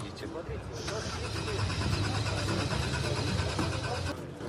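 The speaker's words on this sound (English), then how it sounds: "Right in the middle of the presentation of the new Lada Aura, the car refuses to start." A new Lada Aura car's engine cranking repeatedly without catching, a steady mechanical churn heard close, with people talking over it.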